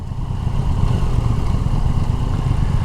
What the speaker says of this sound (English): that's a nice little raspy engine note from this 800 triple.